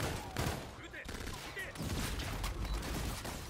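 Continuous gunfire in a Call of Duty: Infinite Warfare campaign firefight, with dense overlapping bursts and shots coming from above, forming a steady, loud barrage throughout.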